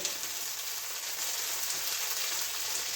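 Butter beans frying in olive oil in a pan, giving a steady bright sizzle and crackle that runs evenly and close throughout, with no talking.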